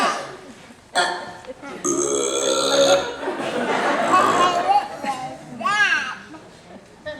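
Long, loud burps from children, several in succession, with excited chatter and laughter mixed in around them.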